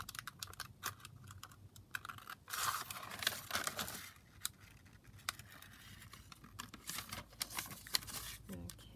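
Scissors cutting a paper piece for a junk journal: faint close snips and crisp rustling paper, quick irregular clicks, with a bit of soft talk in the background.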